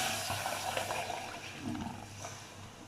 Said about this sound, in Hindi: अब इसमें हम डालेंगे दूध